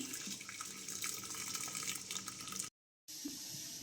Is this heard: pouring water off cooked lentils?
yes